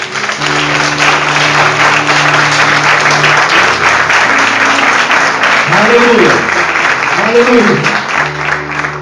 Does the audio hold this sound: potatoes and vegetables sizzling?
no